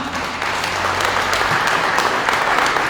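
A church congregation at a Spanish-language Sunday service breaks into applause, a thick, even roar of many clapping hands that holds steady and loud for the whole stretch.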